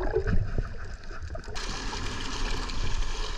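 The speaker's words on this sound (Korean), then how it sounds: "파도 장난 아니다" Rough sea waves churn off the Jeju coast during a dive, a close, constant rush and wash of water that swells louder partway through.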